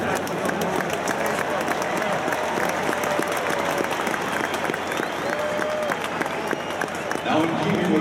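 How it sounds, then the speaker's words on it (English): A large stadium crowd applauds at a university football game, a broad roar of clapping with distant cheering beneath, while a voice speaks over it. "Let's give the thousands of Alumni Association members a big round of applause."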